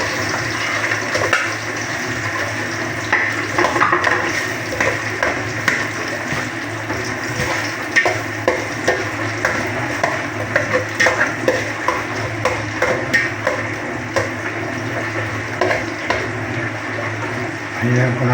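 Onion sautéing in a pan as the base for a chicken wing and egg tinola, giving a steady close sizzle with scraping and stirring bursts throughout.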